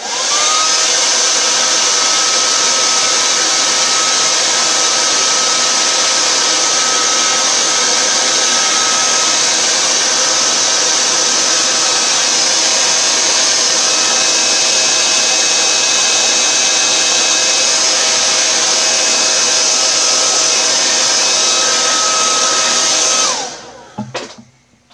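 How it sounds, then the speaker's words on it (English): A hair dryer blows steadily and loudly up close for about twenty-three seconds while drying paint, then switches off and winds down. No one speaks. "I do mean the hairdryer. So you may want to mute the sound on your computer for just a second as I blow dry this."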